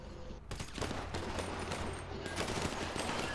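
Rapid automatic gunfire in GTA Online crackles in a dense burst of many shots, continuous and fairly loud for a few seconds with no pauses.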